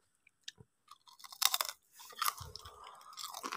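Crisp crunching bites and chewing of a crunchy Thai fried banana snack, close and fairly quiet, a few sharp snaps followed by a longer crunchy burst.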